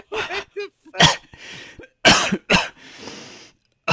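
A person coughs close up in a rapid burst of harsh, loud coughs over about three and a half seconds, with raspy breaths between them.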